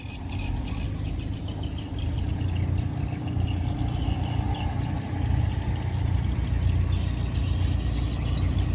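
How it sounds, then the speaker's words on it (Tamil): A loud, steady boat engine drone rumbles continuously throughout, close and unchanging, a motorboat running at a constant pace in Tanjung Puting National Park, Kalimantan, Indonesia. "எங்களோட படகு இப்போ இந்த காடுகளை நோக்கி கிளம்பிருச்சு"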